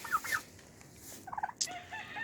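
A turkey gobbles in short bursts, with a couple of bird calls around it, moderately close, no talking.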